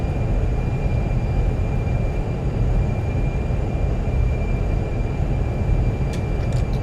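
Thrust reversers roar as a simulated airliner decelerates on landing, a loud, steady, broadband rumble that holds throughout.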